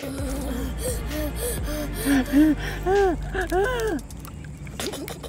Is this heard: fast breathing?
yes